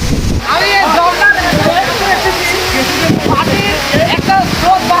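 Steady, loud rush of the Ghagra waterfall in Rangamati, a continuous broadband roar with wind buffeting the microphone and a voice speaking over it.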